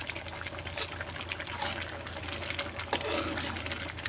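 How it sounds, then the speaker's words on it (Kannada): Sambar made with basale soppu (Malabar spinach) dal boils in a pot, giving a steady, soft bubbling and gurgling hiss that stays even and continuous throughout, with no talking. "ನೋಡಿ ಇವಾಗ ಸಾಂಬಾರು ಚೆನ್ನಾಗಿ ಕುದೀತಾ ಇದೆ."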